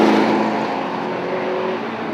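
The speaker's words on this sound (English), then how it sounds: "That's Graham Walden there that's being passed by the number 7 car of the race leader" Tuscan Challenge race cars at Oulton Park, one car being passed by the race leader: a loud, close roar of engines at speed, broadband and sustained, fading slightly over two seconds.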